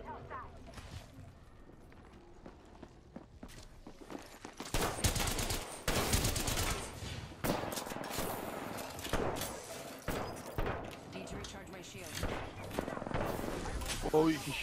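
Heavy Apex Legends firefight with overlapping automatic gunfire in loud dense bursts after a quieter start, and players talking over the shooting.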